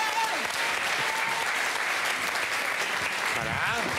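Continuous applause from an audience following a Christmas song, steady and full throughout, with faint voices briefly heard beneath the clapping.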